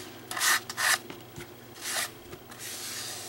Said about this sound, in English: So you want to make sure that you sand them well.